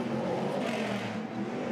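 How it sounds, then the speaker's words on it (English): Stadium Super Trucks race trucks roaring past close by in the pit lane at Adelaide, a loud continuous engine drone and whir with no talk. "He will not be able to hear me right now when these cars go past."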